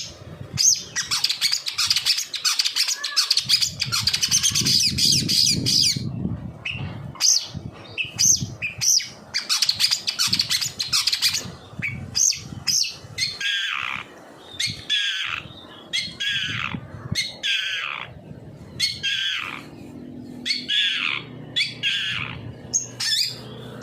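A caged long-tailed shrike calls repeatedly with sharp, harsh chirps and squawks in quick bursts, close and fairly loud, with brief pauses between phrases.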